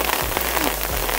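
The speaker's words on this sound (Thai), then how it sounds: "ลูกเห็บตกนะคะ" Hail falls in Florence, Italy, a dense, steady patter of icy pellets striking nearby surfaces with no voices.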